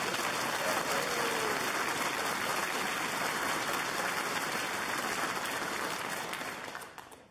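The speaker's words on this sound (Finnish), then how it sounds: "Annetaan aplodit." A studio audience at Top Gear Finland applauds steadily, a dense, even wash of many hands clapping that holds for several seconds before fading out at the end.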